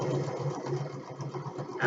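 A sewing machine runs steadily, stitching a quarter-inch quilt seam with a fast, even mechanical hum and rhythmic thrum, close and continuous, ending with a slight rise as it slows.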